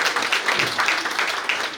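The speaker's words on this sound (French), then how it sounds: "On applaudit ça aussi." Audience applause at an embassy awards evening, a loud, continuous spread of clapping from a crowd, fairly close and sustained with slight swells.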